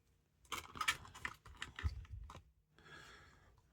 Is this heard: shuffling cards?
yes